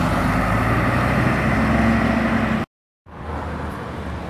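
A Rio Doce coach rumbles at a bus station on the road to Juiz de Fora, a steady loud engine and traffic roar that drops out briefly midway before returning.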